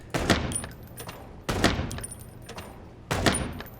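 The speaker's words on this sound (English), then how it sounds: "Oh, I can actually shoot shit." Gunfire in the video game Chicken Police: Paint it Red: three loud, evenly spaced gunshots roughly a second and a half apart, each with a short decaying tail and a faint metallic ring.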